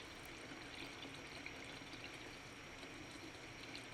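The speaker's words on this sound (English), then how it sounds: "put into the cold running water, and then you just leave it inside for a few minutes" Cold tap water runs steadily over homemade beef balls in a kitchen, a constant hiss and trickle of flowing water with no talk, even and unbroken throughout.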